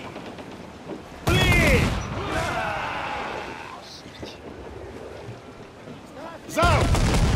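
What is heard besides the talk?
ship cannon fire in video game Assassin's Creed Black Flag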